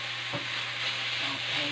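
Tomatoes hit a hot frying pan and sizzle steadily, a close, continuous hiss with a light stir or clatter, no talking.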